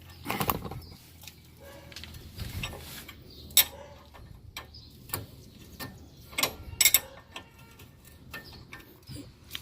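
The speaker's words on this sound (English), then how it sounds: "I found that the 7/8 works best here and tightening that bolt" Wrench tightening a tie-rod end bolt on a GMC Envoy or Chevrolet Trailblazer, a faint irregular run of ratchet clicks and metallic ticks with occasional louder knocks, close by and without talk.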